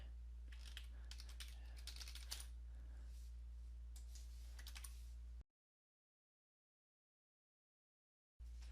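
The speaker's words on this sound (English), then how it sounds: "I'm going to type in my computer password" Keys clatter on a computer keyboard as a password is typed, a quick irregular run of clicks over a steady low hum, then a sudden cut to silence before the hum returns.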